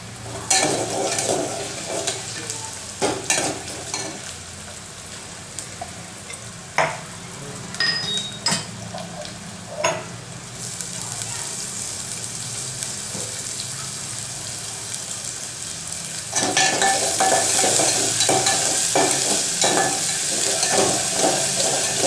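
Sliced onion fries in hot oil in a pan for chicken fry, a continuous sizzle broken by scattered clinks and scraping stirs, with the sizzle growing louder and denser toward the end.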